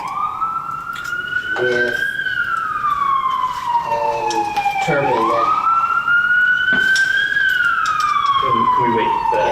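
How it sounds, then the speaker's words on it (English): An emergency siren wails past outside a hearing room, rising and falling in long sweeps at moderate distance while people talk over it. "let's wait for the siren to go away"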